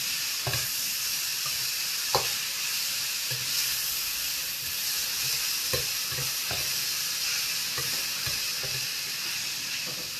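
A pan of carrots, celery and fennel sizzles and hisses steadily after a splash of red wine vinegar, with occasional stirring knocks against the pan throughout, close and continuous, no speech.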